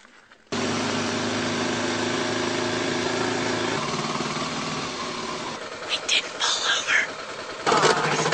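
A dirt bike engine fires up, started in second gear, and settles into a steady close running drone with a few revs near the end.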